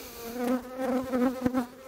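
Honeybees buzz close by as a beekeeper inspects and cleans a hive frame, a steady droning hum that wavers in pitch and swells slightly, with no speech.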